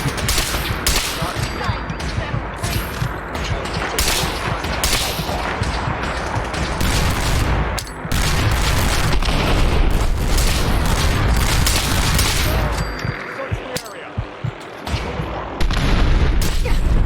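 Rapid bursts of gunfire in the VR game Fallout 4 VR, loud and dense, with repeated shots and booms running almost continuously through a cluttered game soundscape.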